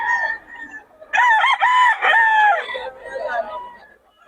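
Roosters and chickens at the Bocaue poultry market crow loudly and close by, one long cock-a-doodle-doo call following clucking, with a second bird starting at the end.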